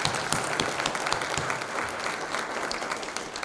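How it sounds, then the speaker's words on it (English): A round of applause from an audience at a first responder information forum on addiction, steady clapping from many hands with no speech over it. "Let's give them a big round of applause."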